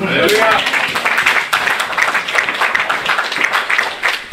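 A church congregation applauds, broad steady clapping that fills the space and runs throughout, with voices mixed in under it.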